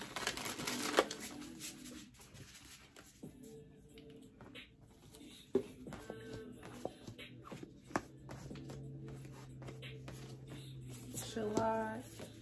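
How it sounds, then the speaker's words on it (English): Tarot cards are shuffled by hand in a quiet room, a soft papery riffling and patting with scattered light taps, faint and intermittent over about twelve seconds. "Felt the need to shuffle."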